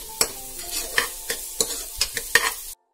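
Onions with ginger garlic paste fry in butter, a soft sizzle broken by about nine sharp scrapes and knocks of a spoon stirring in the pan, close by, with no talking.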